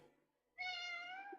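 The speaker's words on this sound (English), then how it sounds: "Apparently she's come to say hello. So yeah, this is my cat, Static." A domestic cat gives one drawn-out, clear meow that swells and holds for most of a second, heard close and alone against a quiet room.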